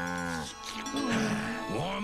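A cartoon cow gives a drawn-out, wavering moo, clear and alone, with a second rising moo at the end.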